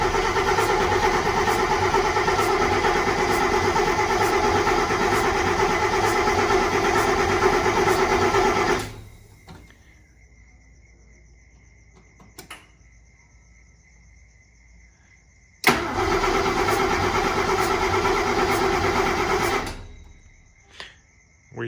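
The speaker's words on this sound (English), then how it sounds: "We seem to have an engine that doesn't want to start." A Mercedes M100 6.3 V8 with no exhaust fitted cranks loudly for about nine seconds without catching, goes quiet apart from faint clicks, then cranks again for several seconds and still fails to fire.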